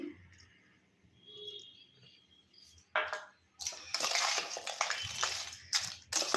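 Nimki snack being mixed with tamarind juice in a bowl, with quiet wet rustling at first, then louder crunchy, crackling bursts of stirring and crushing up close.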